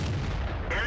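A tank cannon fires in World of Tanks from the French BDR G1 B, giving a single heavy, booming blast with a rumbling low tail that fills the short moment.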